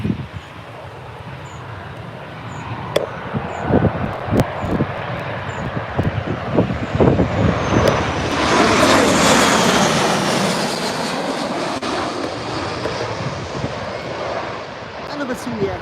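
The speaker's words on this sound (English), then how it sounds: "we've actually got someone else again landing before it." An aircraft lands at Birmingham airport, its engine roar swelling to a loud, close peak midway and then fading away, with someone talking over the first part.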